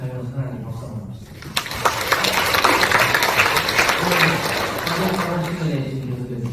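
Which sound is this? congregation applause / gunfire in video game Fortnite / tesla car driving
congregation applause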